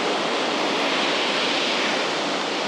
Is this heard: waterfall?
yes